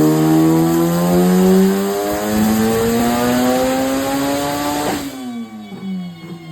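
A Honda Civic FK8 engine on a dyno run, close and loud, climbs steadily in pitch toward about 8,000 rpm, then drops sharply as the throttle lifts and settles into a lower, uneven idle.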